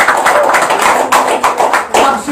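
A church congregation claps loudly for the Lord: a steady fast patter of many hands clapping together, close and loud, with voices mixed in.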